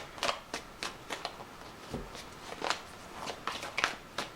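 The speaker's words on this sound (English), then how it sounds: "I'm such a bad shuffler, guys, but I do try." Tarot cards being shuffled by hand, a series of quick papery riffles and soft slaps repeating in irregular bursts, close and fairly quiet with no talk.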